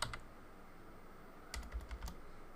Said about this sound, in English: let me just type in 850